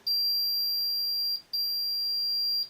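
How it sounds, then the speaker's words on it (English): A loud, steady high-pitched electronic beep from a megohmmeter's continuity tester sounds twice, a long tone cut by a brief gap, then resuming, with no talking. "It has the tone, continuity, the beep noise"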